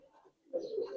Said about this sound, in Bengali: টকটকা লাল ঘেরের কবুতরটা দেখেন